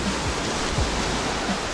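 Sea waves washing onto a white sand beach at a resort on Djerba island, Tunisia, a steady broadband wash with soft low thuds of surf, close and continuous.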